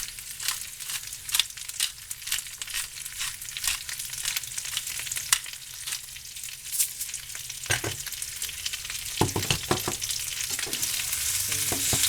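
Food frying in a pan and being stirred, with a steady close sizzle and repeated scraping strokes of the spoon throughout; no one talks.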